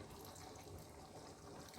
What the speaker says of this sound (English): I'm just adding some water from the bottle